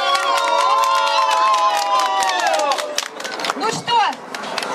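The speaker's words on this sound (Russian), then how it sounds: "Аплодисменты." Crowd at a babushka headscarf contest during a Maslenitsa festival in Cleveland cheers and claps loudly, a dense continuous roar with shouts and a voice rising above it.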